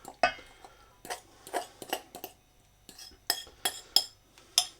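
A spoon stirring cooled onions into a cheese and potato pie filling in a bowl, with irregular clinks and scrapes against the dish and quiet pauses between them.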